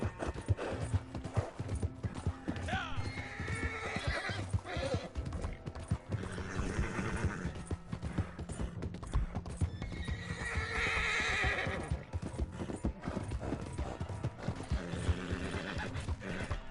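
Horse in the Red Dead Redemption 2 video game, with steady clip-clopping hooves and repeated neighs and whinnies over continuous game sound effects.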